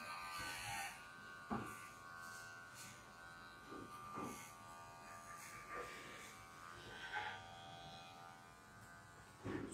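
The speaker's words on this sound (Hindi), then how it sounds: "नेप एरिया को हम शेव कर देंगे, नीट कर देंगे, क्लीन कर देंगे।" Electric trimmer shaving the nape during a bob haircut in a training class, a steady close buzz with soft pulsing strokes as it moves across the neck.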